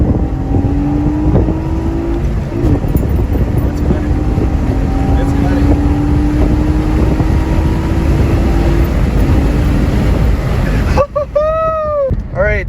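A 2008 Honda Accord V6 coupe on a test run, its engine drone rising steadily in pitch under loud wind buffeting before a brief gear-change drop and a higher revving climb; a voice is briefly heard.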